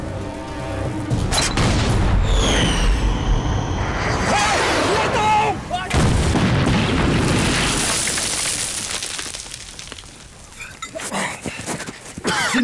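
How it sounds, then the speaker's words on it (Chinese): Heavy booms of artillery cannon fire in a dramatized battle, several loud blasts with crackling debris and shouting voices over the top, tapering into quieter rumbling near the end. "不但第一次拿炮轰人，还第一次挨炮轰"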